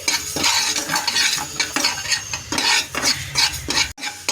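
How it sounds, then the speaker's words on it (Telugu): Mustard, fenugreek and coriander seeds fry in a pan while a spoon keeps stirring them, producing a continuous loud sizzle with frequent metallic scraping sounds, close up and without speech. "ఇలా అయితే మనం కలుపుతూ ఉండాలన్నమాట మనం వీటిని లైట్గా అనేది వేపుకోవాలి"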